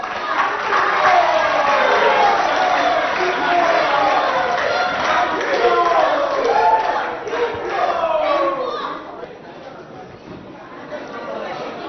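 Crowd at a school games event cheering and shouting to welcome students from two schools, a dense roar of voices that stays loud for several seconds and then fades, with speech mixed in.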